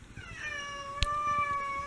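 A cat meows in a room where a ceiling fan is running, the fan's steady tonal hum continuing throughout while the meows come through clearly at close range.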